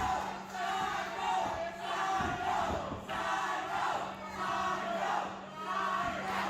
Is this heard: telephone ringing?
no